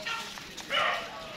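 A German shepherd barks and yips briefly at a dog kennel, two short bursts at moderate distance with a voice audible nearby.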